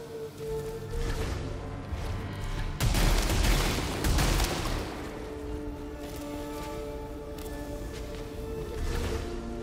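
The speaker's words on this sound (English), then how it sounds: "new weapon. Slug shot. I think this is a shotgun." Shotgun-style slug shot weapon firing in the sci-fi video game Returnal, producing loud booming blasts amid dense layered game effects and a continuous music bed, with no talking.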